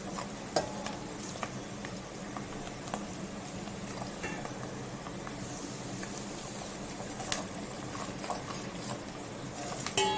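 Fish pieces for a fish curry are stirred and fried in a pan until browned, giving a dense, continuous sizzle broken by occasional sharp scrapes and clinks of the utensil.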